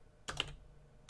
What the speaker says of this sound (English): And so now I want to type snippet